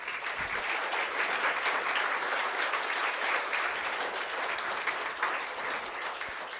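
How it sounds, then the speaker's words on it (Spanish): A church congregation applauds in praise, with dense and sustained clapping from many hands that fills the room at an even level from start to finish. "Dale un aplauso al Señor."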